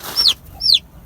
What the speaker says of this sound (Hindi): रानी मुर्गी को भी लेकर आते हैं